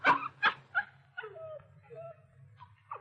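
A small dog in a radio drama sound effect gives a few sharp yips and barks, then trails into soft, drawn-out whimpers, close and alone with no talk.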